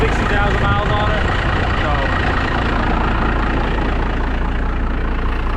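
A diesel engine idles loudly and steadily close by, a dense, rumbling drone that holds at one level throughout with no revving.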